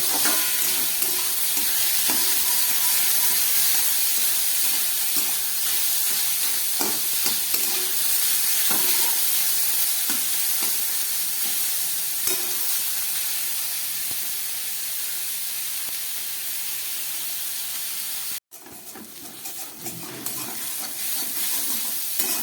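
Pasta and vegetables are stirred and fried in a pan, giving a loud, continuous close sizzle with scraping stirs throughout and a brief break near the end.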